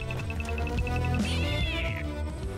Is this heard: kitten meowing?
yes